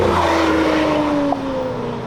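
A Lamborghini Aventador driving, its engine giving a loud, steady close drone with a slowly falling pitch and a small bump near the middle, with no talking.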